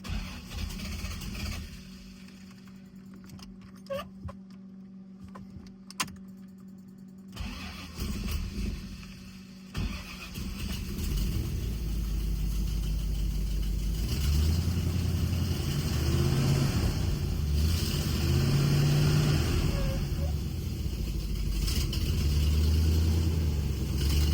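A C3 Corvette engine cranks and sputters several times, catches, then runs with a loud, uneven rumble that stays rough and steady.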